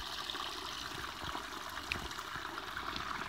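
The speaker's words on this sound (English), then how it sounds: "You can see the water running between those rocks there." A creek running over and between rocks, a steady broadband wash of flowing water with light splashing, continuous and fairly close throughout with no speech.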